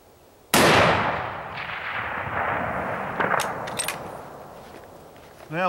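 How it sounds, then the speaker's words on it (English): A single sharp, loud rifle shot from a Lane precision rifle built on a 20-year-old Model 700 action in 280 Ackley Improved, fired at long range, cracks and then rolls off in a long echoing decay outdoors. "gonna take a shot and try out this Lane precision rifle built on a 20-year-old Model 700 Action in 280 Ackley improved caliber"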